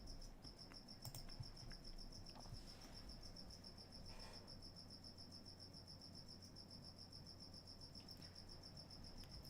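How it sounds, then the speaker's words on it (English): A cricket inside a home chirps steadily in a high, repeating pulse, faint but continuous against a quiet room hum, with no voices. "there's a cricket in Ripley's home, and I've been waiting for her to kill it. And it's chirping a lot."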